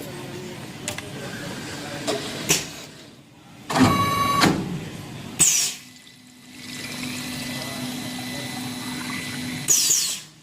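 A two-head piston liquid filling machine runs in intermittent cycles, with mechanical clatter, pneumatic bursts and a steady motor hum between strokes, all close and moderately loud.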